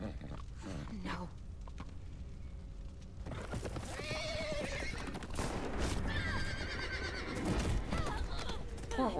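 A horse neighs and whinnies in the video game The Walking Dead, with hoof clip-clops and other game sounds around it and a voice talking faintly in the background.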